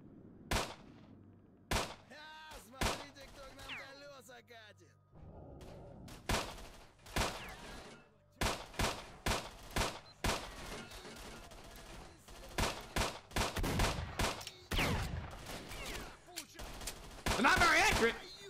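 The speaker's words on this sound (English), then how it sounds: "Watch me snipe them all with my pistol" Pistol shots in S.T.A.L.K.E.R. Shadow of Chernobyl during a bandit raid, many sharp single cracks fired in irregular bursts, some rapid, loud and close, with stretches of quieter background between volleys.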